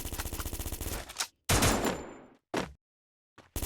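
Gunfire in the mobile game Free Fire: a rapid automatic burst of loud, evenly spaced shots, then a heavier blast, a short burst and a few clipped shots separated by dead silence.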